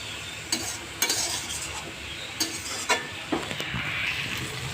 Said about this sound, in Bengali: একটু নেড়ে নেব, জলটা শুকিয়ে গেছে।